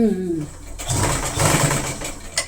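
Domestic sewing machine stitching fabric for a small two-pocket side purse, a close mechanical whir of about a second and a half with a light clatter, following a brief voice at the start.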